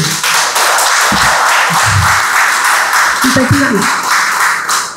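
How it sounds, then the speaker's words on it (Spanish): Audience applause fills the room, a dense steady wash of clapping running throughout at even loudness, with a few louder claps and some voices mixed in underneath. "yo estoy aplaudiendo para que me calle ya"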